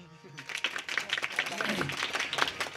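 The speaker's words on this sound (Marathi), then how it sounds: "अशा टाळ्या वाजवत जा, परत एकदा वाजवा" Audience clapping together at a devotional kirtan gathering, a dense burst of hand claps that swells after a short pause and carries on steadily, with voices mixed in beneath.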